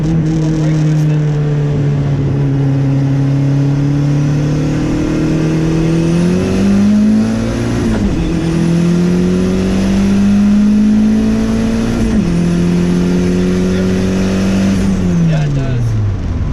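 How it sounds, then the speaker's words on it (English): A 300 HP Civic wagon pulls hard from a brake-boosted roll near 40, its engine note loud and rising through several gear changes with brief dips between shifts. "Brake boost it this time, so it's gonna be like a 40 roll."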